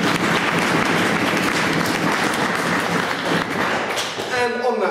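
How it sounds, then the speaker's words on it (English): An audience at a wargaming tournament awards ceremony applauds in a dense, continuous wash of clapping lasting most of five seconds, fading slightly near the end as a voice begins. "a round of applause to Emma and Lily for baking"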